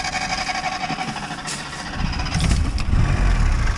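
A carburetted race engine running roughly on a very rich mixture, a close, uneven idle that grows louder and heavier in its final second or two, with no talk over it.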